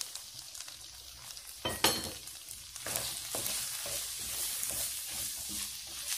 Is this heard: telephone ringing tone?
no